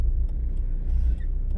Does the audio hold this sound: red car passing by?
yes